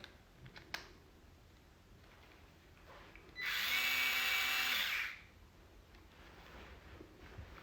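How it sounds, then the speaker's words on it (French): An electric screwdriver bought from Action whirs steadily for about two seconds, fairly loud and close, with faint handling clicks before and after and no talk. "Tournevis de chez Action électrique."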